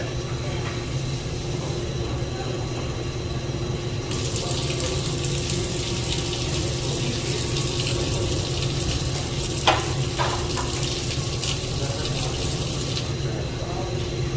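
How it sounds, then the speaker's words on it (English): A kitchen tap runs steadily at a cruise ship sushi class, water streaming continuously into the sink as hands are wetted, a fairly loud hiss throughout with a brief splash near the middle. "don't forget to turn on the tap and make your hand wet."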